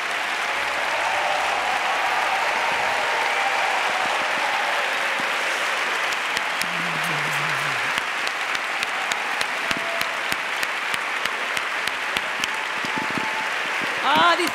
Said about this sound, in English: Like that, we can give you a big applause.